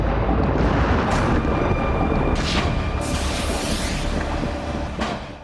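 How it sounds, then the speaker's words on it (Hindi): A drone strike at the Ryazan oil refinery makes a loud, continuous roaring blast rumble with several sharper bursts, as fire flares up nearby. "रेजान ऑयल रिफाइनरी में फिर ड्रोन से धमाका हुआ है, जिसकी वजह से आग और भड़क उठी।"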